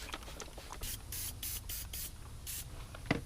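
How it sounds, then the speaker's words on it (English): Heavy duty wheel and tire cleaner sprayed onto a Kia Stinger wheel, a series of short, sharp trigger-spray bursts in quick succession, close and fairly quiet. "this is what I'm gonna use: heavy duty wheel tire cleaner"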